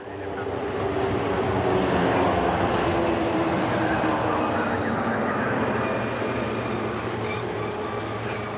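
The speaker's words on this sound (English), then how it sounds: "Stage 1 thrusters working nominally." Soyuz rocket first-stage engines roar during an Expedition 39/40 launch to the International Space Station, a steady, dense broadband rumble that holds loud and unbroken throughout.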